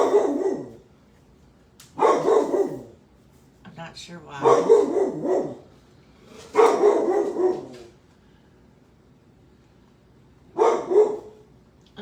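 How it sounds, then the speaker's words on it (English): A pet dog barks in several separate bursts indoors during a craft class, loud and close, with short pauses between, while a person talks nearby. "And we're going to hear my dog bark."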